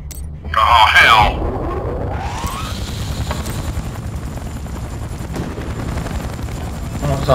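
A helicopter in the video game Battlefield: Bad Company 2 makes a steady rotor drone with a loud burst of game effects at the start, while a player talks over it.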